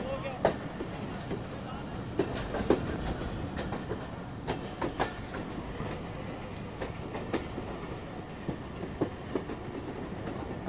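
A Jaffar Express train pulls into Gujrat railway station, wheels clattering and knocking in irregular bursts over a steady rumble, with voices talking around it on the platform.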